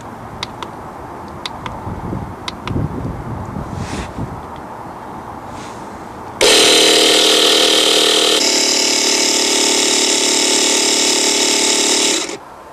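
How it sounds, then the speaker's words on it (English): Air compressor set to 15 PSI pressurising a touring caravan's water system during drain-down and winterising. It switches on abruptly after a quieter stretch, then runs loud and steady with a harsh mechanical roar for about six seconds before cutting off. "set the compressor to 15 PSI, switch it on, and build up the pressure in the system"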